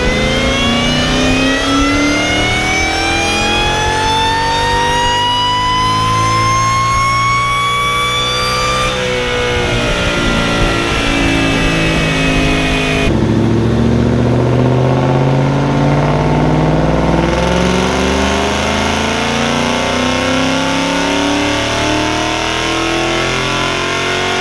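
An 800 horsepower Mustang notchback screams through repeated full-throttle pulls on a Mustang dyno, loud and close, its pitch climbing steadily through each run before a brief lift and another rising sweep.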